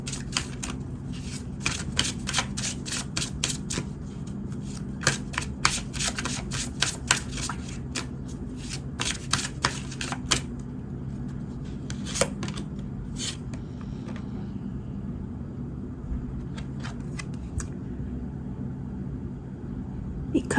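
Tarot cards being shuffled and drawn, a dense run of rapid riffling flicks followed by slower scattered card slaps and rustles, close and steady with no speech.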